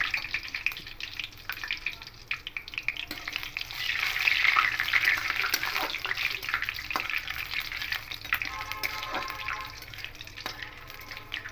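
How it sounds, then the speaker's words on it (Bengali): Panch phoron and two dried red chillies sizzling in hot white oil in a pan, a continuous crackling fry that swells midway, with occasional light stirring clinks. "দিয়ে একটুখানি পাঁচফোড়নটাকে ভেজে নেবো যাতে ভাজা ভাজাটা বন্ধ আসে"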